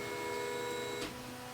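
A QIDI Tech 3D printer's bed rising, heard as a steady whining motor hum with high tonal lines that stops abruptly with a short click, fairly quiet and close, with no talk.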